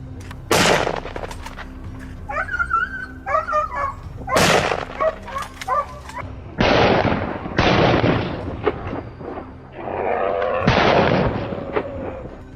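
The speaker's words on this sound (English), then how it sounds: "A rapid burst of gunfire echoed, and the beast collapsed before it could flee." Gunfire during a wild boar hunt in a cornfield, several loud, sharp shots with short echoing tails spaced across the scene, with a dog barking in between.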